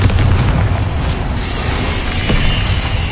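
A Bombarda explosion spell goes off in a video game, a loud continuous rumbling boom with debris-like crackle and shattering texture sustained throughout, heaviest at the start.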